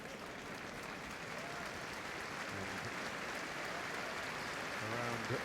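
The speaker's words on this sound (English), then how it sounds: "And a round of applause spreading around at Oak Road end of the ground." Football crowd at Kenilworth Road during a Luton Town versus West Bromwich Albion Championship match gives a distant, steady ripple of applause during a pause in play, a soft continuous wash with a commentator's voice briefly heard over it.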